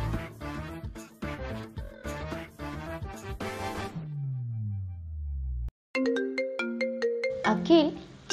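A phone ringtone announces an incoming call in a Telugu short film scene at an ice cream shop, playing a clear repeating electronic melody after a stretch of talk and a low descending tone, close and fairly loud.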